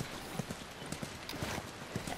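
Horse hooves clip-clop in the video game The Last of Us, set in Wyoming, with soft, evenly spaced footfalls that sound quiet and close.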